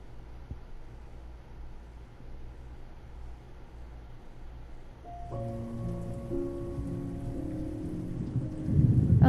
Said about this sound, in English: I like how they added rain in this scene